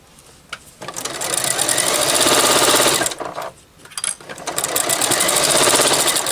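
A sewing machine stitches a fabric bowl seam in two loud, steady runs of rapid mechanical hammering, separated by a short pause for pivoting and ending with another stop.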